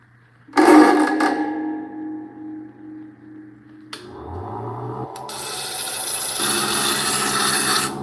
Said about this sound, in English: So this one's 180 grit, so it's not as it's not going to eat away at the rock as quickly.